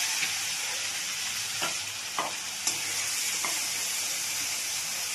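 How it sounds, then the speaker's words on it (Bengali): Masala paste of ginger, cumin, chili powder and turmeric fried in a pan, a loud, even hiss of sizzling oil with a few soft stirring scrapes. "সুন্দর করে মশলাটা কষিয়ে দিতে হবে।"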